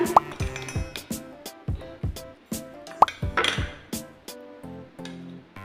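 Poppy seeds, green chillies and cashews dropped into a grinder jar or bowl for a spice paste, with sharp clinks, plops and ringing knocks in an uneven close sequence.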